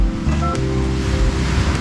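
Sea surf rolling onto the shore at Siruma, Camarines Sur, Bicol, after heavy rain: a steady, loud, low wash of breaking waves with wind buffeting the microphone, no voices.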